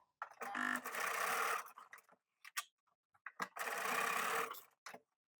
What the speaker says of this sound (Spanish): Y le damos un pespunte para sujetar.